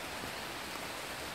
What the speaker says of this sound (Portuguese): Eu vou correr porque tá chovendo.